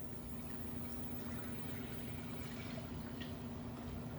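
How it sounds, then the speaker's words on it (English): Water is poured into a cooking pot to cover six eggs for boiling, a soft steady running stream with a faint watery hiss, fairly quiet and continuous, with no talking. "we're going to put in enough water that would cover my 6 eggs"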